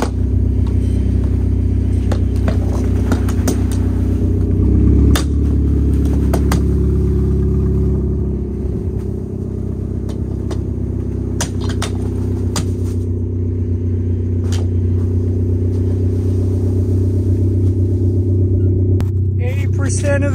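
A Ford Fusion engine idles in neutral on a snowy day, a loud steady low rumble running throughout with slight shifts in pitch, and scattered clicks and knocks above it.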